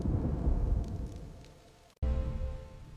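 A night thunderstorm with heavy rain: a loud, rolling rumble of thunder over steady downpour fades away, then breaks off abruptly and the rain and rumble return at full strength.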